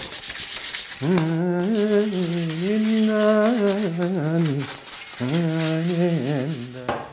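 Continuous rough rubbing of sandpaper by hand on a car, close up, with long strokes that take on a squeaky, droning tone.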